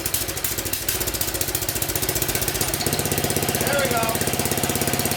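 A Briggs 190cc OHV engine on a MasterCraft Lawn Chief tiller runs with a loud, rapid, steady chugging rattle close by, while someone says a few words over it.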